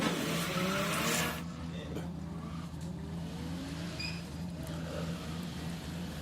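Drift car pulling away on a racetrack at the Borneo Star Drift Series, a loud revving engine with rising tire squeal that eases into a steady distant engine drone, with a commentator talking over it.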